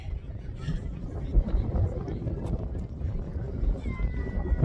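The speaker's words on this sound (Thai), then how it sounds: "ลมแรงมากเลย" Strong wind buffets the microphone at Stonehenge as a steady low roar and rumble, with faint crowd sounds in the background.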